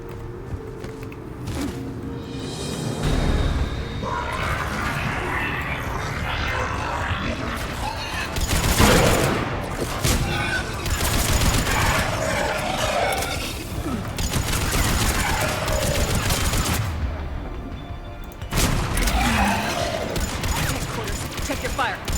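Bursts of automatic gunfire in a video game battle recur across the stretch, loud and close, broken by short pauses and mixed with mechanical clatter while someone talks over it.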